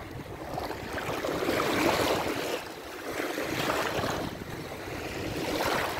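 Waves wash steadily against a shore, a broad rushing surge that swells and recedes over a few seconds, with wind buffeting the microphone.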